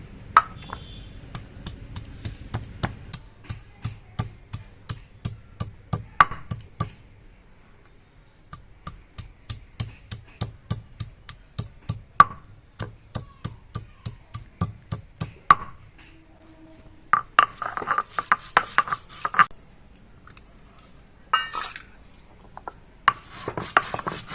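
Ginger and fried cumin are ground into paste on a grinding stone, producing a long run of regular, close scraping and knocking strokes with brief pauses between passes.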